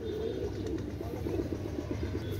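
Pakistani pigeons coo nearby in a soft, continuous, rhythmic low burble, steady throughout under faint background noise.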